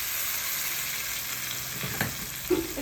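Chicken masala for kosha murgir mangsho sizzles steadily in oil in a pan as a tomato is dropped in, with a couple of soft stirring knocks near the end.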